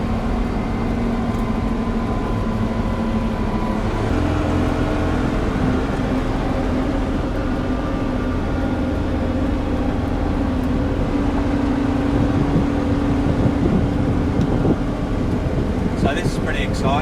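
Steady, continuous drone of a Unimog U1700 truck cruising at 110 km/h on the road, a low engine and drivetrain hum mixed with wind and road noise, unchanging throughout with no clear speech.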